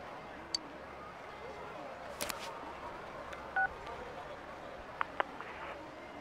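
A phone being dialed in the video game Persona 4 Golden, a few short keypad tones spread out over quiet background, with faint ticks between them.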